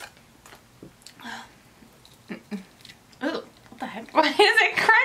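Crunchy chewing of popping candy close to the mic, with small crackles and pops, while people talk and react around it.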